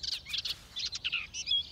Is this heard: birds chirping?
yes